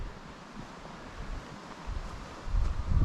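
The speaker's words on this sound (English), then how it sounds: "because the wind's coming off the point there." Wind blowing in off a point at a lakeside campsite on an island, a steady, broad rushing rumble close to the microphone that swells louder toward the end.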